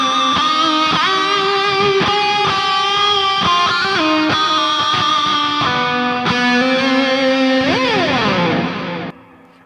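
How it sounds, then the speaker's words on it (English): Electric guitar played through a Flamma FX20 headphone amp on a high-gain 5153-style channel with reverb and delay, loud distorted chords and bends ringing with echo, then cutting off at the end. "Let's turn the reverb and the delay on."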